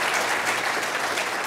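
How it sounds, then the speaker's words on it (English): An audience breaks into applause at a streaming and NFT industry talk, a dense, steady wash of many hands clapping at full volume from start to finish. "I think that deserves a round of applause too."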